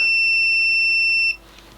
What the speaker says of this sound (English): a big visual indicator on the screen as an alternative to the far too loud beep